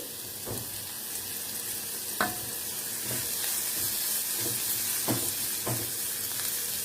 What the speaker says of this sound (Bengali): মিডিয়াম ফ্লেমে ভাজবো দেব লঙ্কা কুচি